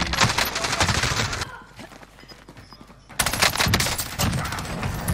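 Rapid automatic gunfire in the video game Call of Duty Warzone Rebirth, dense bursts of shots that drop away to a quieter lull for a couple of seconds and then resume loudly, with no talking.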